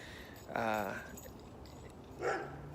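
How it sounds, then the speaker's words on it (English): A dog barks briefly twice, once near the start and again a couple of seconds later, sounding fairly close in an outdoor garden setting. "Ooh, that's a new dog."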